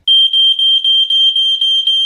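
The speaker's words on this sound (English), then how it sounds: "If the smoke alarm detects smoke from a fire, it makes this noise." A household smoke alarm sounds a loud, piercing high beep pulsing rapidly and evenly, close and continuous without any voices.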